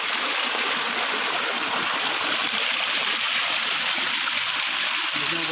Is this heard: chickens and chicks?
no